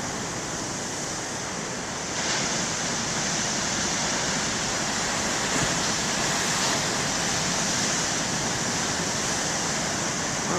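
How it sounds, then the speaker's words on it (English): Big ocean surf breaking at a beach on a day with north-northeast wind, a loud, continuous roar of crashing water and wind with no distinct individual breaks, heard alone without talk. "Well, the waves are pretty good"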